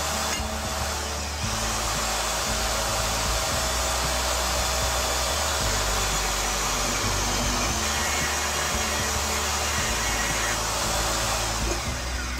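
A power saw blade cuts through metal C-channel with a loud, continuous, steady high-pitched whine and grinding roar, nearby and uninterrupted, with slight shifts in pitch as the cut proceeds.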